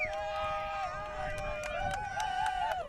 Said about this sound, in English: I don't know if you can hear the crowd, but they're pretty pumped up from that.